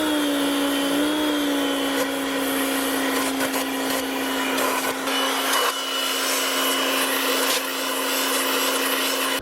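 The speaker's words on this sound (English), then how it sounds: "Power washing the intake to get all the boogers out." A pressure washer sprays down the intake runners of a Nissan Silvia engine, a steady loud hiss and motor drone running throughout with no talk.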